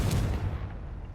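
Confringo explosive spell blast from Hogwarts Legacy, a single loud booming burst with deep low-end rumble that decays over about a second, no speech.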